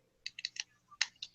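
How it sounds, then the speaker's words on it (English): Computer keyboard keys clicking in a quiet room, a short burst of about eight light, sharp taps in two quick clusters, close and faint with a low background hum. "We're going back to this clicking sounds again."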